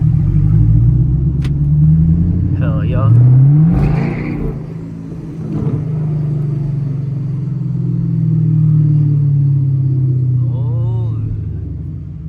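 A Chevrolet Camaro SS engine rumbles low and steady while the car drives through downtown at night, swelling now and then under acceleration. The driver speaks briefly over the engine.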